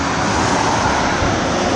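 Steady broadband road traffic from cars crossing the Rivière des Galets bridge on Réunion, a continuous distant wash of tyre and engine noise with no distinct passes.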